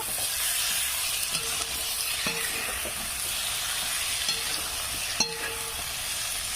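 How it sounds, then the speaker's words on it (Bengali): Spice paste and vegetables stir-fry in a pan for a Bengali fish curry with taro, giving a soft continuous sizzle and occasional scrapes and clinks of the spatula, fairly quiet and steady. "সবজি মশলা সব ভালো করে খুব সুন্দর কষা হয়ে গেছে"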